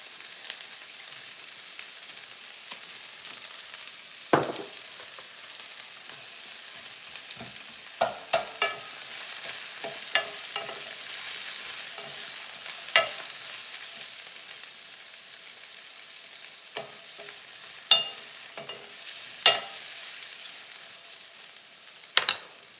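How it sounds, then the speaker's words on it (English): Onions and celery sautéing in a pan, a soft steady sizzle beneath repeated scattered clacks and scrapes of a utensil stirring, quiet and close with no talking. "onions and celery. We're just gonna saute that until fragrant."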